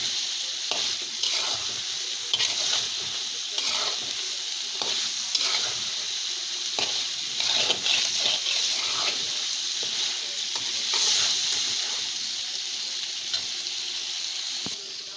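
Gizzard and liver curry sizzles steadily in a hot pan as water goes in, with frequent scraping stir strokes throughout and a constant bright frying hiss.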